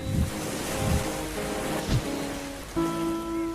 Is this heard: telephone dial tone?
no